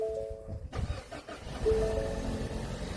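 A battered old car's engine cranks and catches close by, then settles into a rough, rumbling idle.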